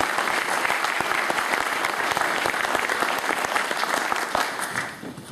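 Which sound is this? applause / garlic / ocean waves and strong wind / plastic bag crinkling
applause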